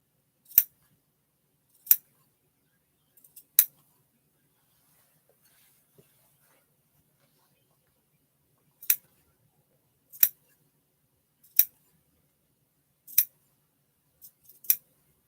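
Scissors snip through quilted fabric around a sewn bear in a quiet room, about ten sharp, crisp close cuts spaced irregularly with short pauses between them.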